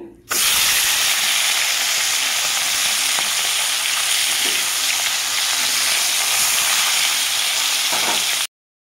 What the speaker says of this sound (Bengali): ভালোভাবে ভেঙে চুড়ে ভাজা করে নিয়েছি